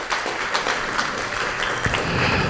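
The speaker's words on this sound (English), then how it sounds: "let's have a nice round of applause for the founders" A village tenth-anniversary gathering applauds its founders with a short round of scattered hand claps, moderately quiet and somewhat distant, lasting a couple of seconds.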